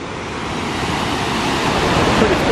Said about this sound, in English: This is pretty awesome waterfall.